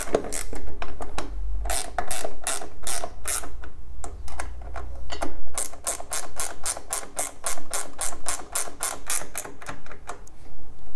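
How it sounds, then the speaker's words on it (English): A hand ratchet tightens flare nuts with washers on a go-kart chain guard, giving rapid runs of sharp metallic clicks in a continuous rhythm close to the mic, with no talking. "Ratchet up the nuts and you're all good"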